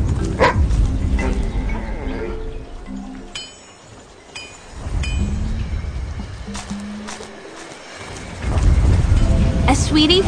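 A dog in the adventure game So Blonde barks in short loud bursts, with a rain-like wash and clinking behind it and a voice talking between the barks.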